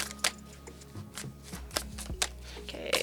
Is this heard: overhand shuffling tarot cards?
yes